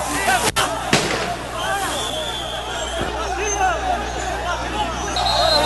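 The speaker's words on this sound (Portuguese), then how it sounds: "Alguns disparos aqui na Praça Floriano Peixoto." Several sharp gunshots crack out during a riot in a town square, with a couple of loud reports early on amid a crowd's hubbub and nearby speech.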